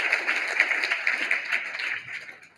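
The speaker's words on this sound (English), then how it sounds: "Let's give them a round of applause" An audience applauds at an awards event, a dense burst of clapping that fades out over a couple of seconds.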